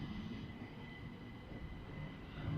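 A Class 455 electric multiple unit, unit 455832, pulls out of East Croydon station on the Brighton Main Line bound for London Victoria, giving a steady, continuous low rumble with a faint high whine that carries through to the end.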